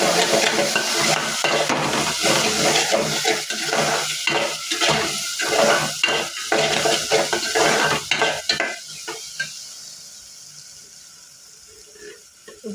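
Cauliflower curry with chilli powder and garam masala is stirred in a sizzling pan. A rhythmic series of loud spatula scrapes rides over steady frying hiss, slowing and fading toward the end.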